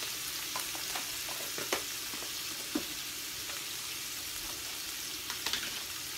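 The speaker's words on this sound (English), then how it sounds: "All right, so I'm gonna add some onions." Chopped onions sizzle in a hot pan as a constant crackling hiss, broken by a few faint scrapes and taps. No one speaks.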